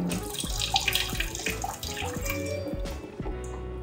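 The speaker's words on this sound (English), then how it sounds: "So we just wash the fish." Fish is rinsed under running tap water in a home kitchen, a continuous splashing flow with irregular splatters and gurgles close by, without talk.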